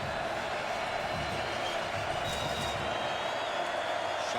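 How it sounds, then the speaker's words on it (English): Dense, steady roar of a football stadium crowd at a Texas versus North Texas college game in 2014, sustained and even throughout, with a commentator's voice faintly under it. "Crowd getting into it"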